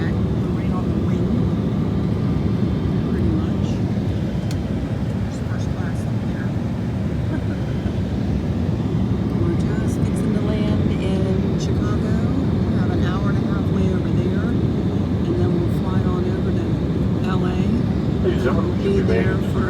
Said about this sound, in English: we're on a little Embraer jet, right on the wing